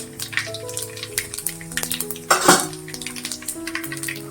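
Mustard and cumin seeds added to hot oil for Kolhapuri misal, crackling and popping over a sizzle, with a sharp clatter of a spoon and pan midway and scattered clinks of utensils nearby, and no voices.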